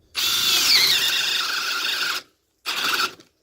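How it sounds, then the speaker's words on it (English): Ryobi 18V cordless drill driving a spade bit into wood: a loud, steady whine and grinding lasting about two seconds, then a short pause and a second brief burst of drilling. "if I use the speed bit on this Ryobi and use speed bit drill to go into the wood, it almost goes all the way in"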